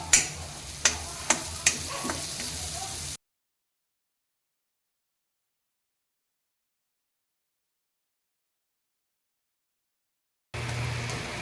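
Onion, chili and garlic frying in a pan, a soft sizzle punctuated by a few sharp stirring clicks, then a long stretch of silence before the gentle sizzle returns.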